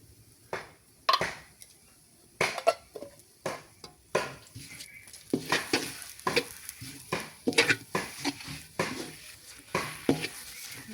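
Carrot halwa cooks with ghee in a pot, a spoon dragging through it in repeated rhythmic scraping strokes over a faint, soft sizzle, close and with no talking.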